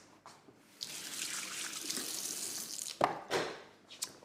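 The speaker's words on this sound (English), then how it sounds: "just wash my hands" Hands washed under a running kitchen tap, water splashing and rushing into the sink with a few louder bursts and handling noises near the end, close and with no talking.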